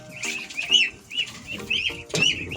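Ducklings on a backyard farm, a cluster of small birds giving high, repeated peeping calls in short bursts, close by with no voices.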